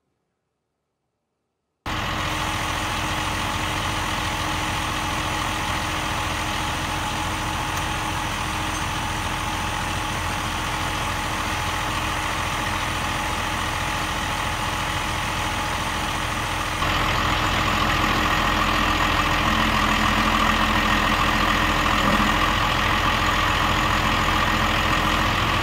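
Tractor engine idling while a MeriCrusher MJS-244 STG forestry tiller is attached, a steady, continuous diesel rumble that starts after a short silence and gets slightly louder partway through, no talk.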